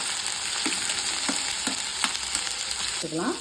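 Crushed garlic, ginger and fennel frying in hot oil for a Tamil-style crab gravy, a steady sizzle with a few soft stirring clicks and a brief scrape near the end.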